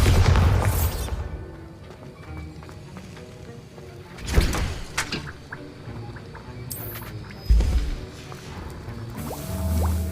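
Bombarda blasting spell in Hogwarts Legacy, marked by sharp, booming blasts near 4.4 and 7.5 seconds over a rumbling game soundscape with scattered crackling debris.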